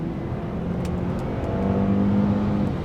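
A 2019 Range Rover P400e Autobiography with a coarse four-cylinder engine accelerates from inside the cabin, a muffled steady drone that swells in the second half, with no talk.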